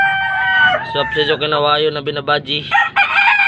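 A gamecock crows loudly and close, a drawn-out strained call, while a person speaks over it.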